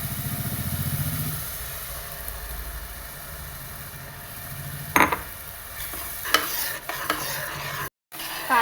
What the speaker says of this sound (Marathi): पेस्ट आता लालसर झालेली आहे, त्यात आता आपण टोमॅटो पेस्ट टाकूया